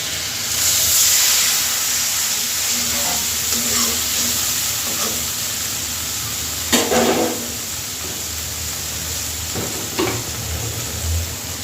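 Water splashes into a hot pan of fried potatoes, green plantain, spiny gourd and fish seasoned with turmeric and salt, giving a steady close sizzle and hiss with a few sharper bursts and light stirring scrapes, no voices.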